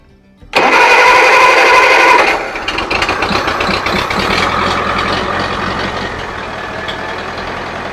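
A Farmall Cub tractor engine that has sat idle for several days cranks and catches quickly, giving a loud burst of starting noise before settling into a steady, close, rhythmic running chug.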